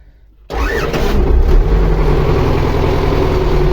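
MTZ 80 tractor diesel engine starting with its starter: after a brief quiet moment the engine catches abruptly and settles into a loud, steady, close-up rumbling idle.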